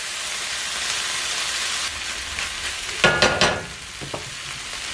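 Chopped ginger and garlic fry in a pan with a strong hiss. Partway through, several quick scraping stirs rattle close by, then the sizzle settles down quieter with a few light knocks.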